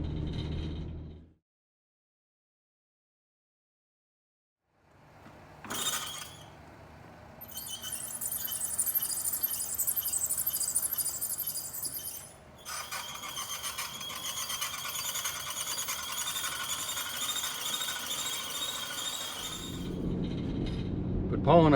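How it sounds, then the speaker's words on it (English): Vespa GTS300 scooter with a mechanical fault, running with a steady engine drone overlaid by a high squealing, rattling whine that comes and goes. Brief muffled talk and a silent gap come before it. "Andy, who's having a problem with his Vespa GTS300. He sent us this video, and you can take a listen"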